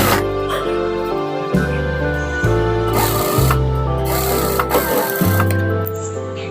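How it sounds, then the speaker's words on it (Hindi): A sewing machine stitching a frill onto a bed sheet, bursts of rapid mechanical whirring broken by brief stops, with someone talking over it. "सिलाई करेंगे"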